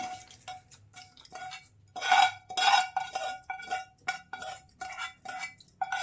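A metal spoon stirs tempering into Andhra-style radish chutney in a vessel, giving repeated bright clinks and scrapes that swell into a busier stretch midway, close and clear with no talking.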